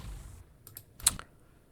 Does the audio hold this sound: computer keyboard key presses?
yes